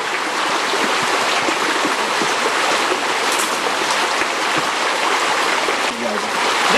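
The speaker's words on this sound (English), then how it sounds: "this flowing water has taken a view of waterfall because the flowing water is falling" A broad, rushing roar of water spilling down a valley waterfall, steady and loud from start to finish, with constant hiss and splash and no talk audible over it.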